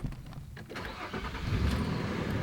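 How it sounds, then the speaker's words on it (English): Older pickup truck engine starting: a short cranking whir catches and swells into a rough, low rumbling idle within a couple of seconds, fairly quiet and close, without talk over it. "So let's start it up."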